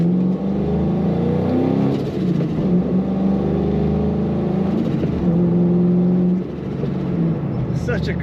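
A 2005 Ford Mustang Shelby Eleanor with a five-speed manual and a supercharger whine rumbles steadily, holding a deep, loud exhaust drone that swells with revs near the middle and end.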